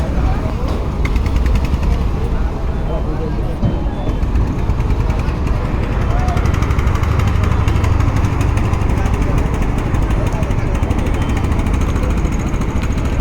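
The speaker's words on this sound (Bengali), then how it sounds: "এই যে এখন এই ট্রলারটি যাচ্ছে" A trawler boat's engine drones steadily as it pulls away on a river crossing, a loud, rough, continuous mechanical rumble close by that holds level throughout.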